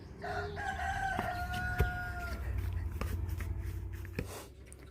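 A village rooster crows in a long drawn-out call near the start, with farmyard fowl clucking and low background noise continuing afterward.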